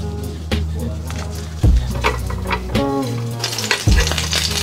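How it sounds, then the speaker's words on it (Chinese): Rolls of seasoned shrimp paste wrapped in seaweed sizzle steadily in a hot pan, with clear frying hiss, repeated scraping and stirring strokes, and a few louder knocks of utensil against the pan, all close up with no talk. "煎的时候搓一搓，变硬了就可以出锅了"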